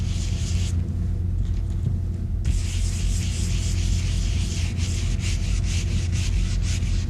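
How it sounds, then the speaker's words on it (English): A stencil brush scrubbing slate gray paint onto a colander, a continuous close, dry rubbing hiss that briefly drops away and then resumes steadily. "rub scrub that color into the open area"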